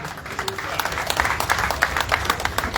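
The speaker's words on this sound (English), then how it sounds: "Ladies and gentlemen, we applaud His Excellency." At the official opening of the Edo State film production studio, an audience applauds His Excellency with uneven, fairly close clapping from a modest crowd, individual claps standing out over a low rumbling background.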